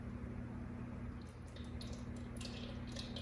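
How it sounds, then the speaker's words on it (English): Grape juice pouring and dripping into a bowl, a faint, thin trickle of liquid with small splashes over a steady low hum. "You can hear that juice poured in the bowl"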